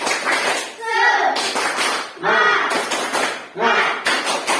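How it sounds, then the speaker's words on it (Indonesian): Classroom of students chanting and clapping a rhythmic spirit clap, bursts of loud voices with sharp claps in short repeated groups, close and energetic. "Tepuk semangat!"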